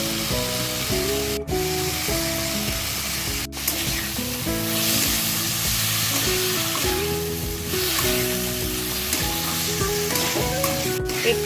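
Soaked red lentils, washed beforehand, are added to a hot pan and stirred, frying with a loud, continuous close sizzle and occasional utensil scrapes and no talk.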